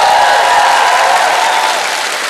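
A studio audience at a Ukrainian comedy show applauds in a dense, loud wash of clapping that holds steady for about two seconds before starting to fade.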